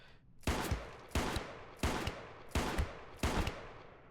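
Five loud, evenly spaced Python revolver gunshots from the Space Station 14 video game, each a sharp crack with a short decaying tail, about two-thirds of a second apart and with no voices.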